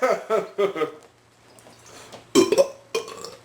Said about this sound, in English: Burping equals instant sobriety?